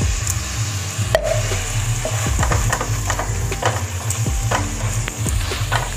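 Thick chhena malai sandesh mixture with ghee stirred continuously in a kadai, rhythmic close scraping and knocking of the spatula over a low bubbling sizzle, no speech.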